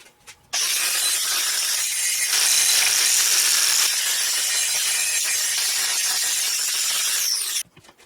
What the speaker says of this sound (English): what I'm doing now is shortening that bolt